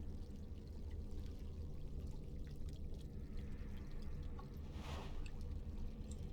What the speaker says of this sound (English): Dip the jug into water until it fills up completely.